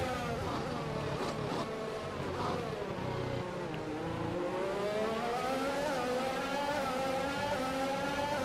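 A Formula 1 race car engine in the F1 2021 video game at Sakhir, a fairly quiet, sustained high whine with rising and falling pitch as the car accelerates and shifts, with no speech over it.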